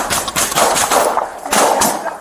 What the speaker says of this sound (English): Ricardo fell to the ground, and the gunfire ceased.